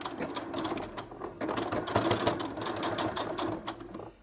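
A sewing machine runs continuously, stitching a buckle slider onto a fidget mat with a steady, rapid mechanical chatter. It stays close and fairly loud with brief slowdowns, and no one speaks.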